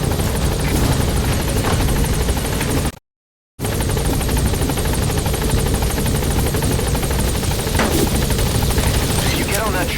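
Helicopter in Metal Gear Solid V: The Phantom Pain, a loud, steady rotor and engine drone that cuts out briefly near the three-second mark, then resumes with radio-style game voices over it.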